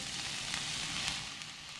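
Ground turkey sizzles steadily in a pan coated with cooking spray, a continuous hissing fry close by with small crackling pops and no talking.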